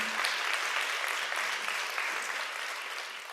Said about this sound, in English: Give them a round of applause as well.